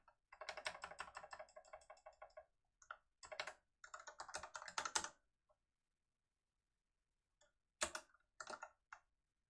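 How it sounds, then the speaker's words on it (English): A computer keyboard prone to key chatter is typed on in quick clattering bursts of clicks, close and crisp, separated by pauses and a long silent gap before a final few keystrokes. "this keyboard seems to like chatter"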